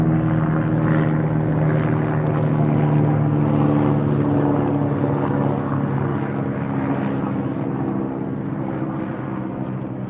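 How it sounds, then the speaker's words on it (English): A helicopter passes overhead outdoors, its loud, steady engine and rotor drone filling the air throughout and easing off slightly toward the end. "You have the helicopters coming in and maybe muted on the microphone or maybe a little bit too loud."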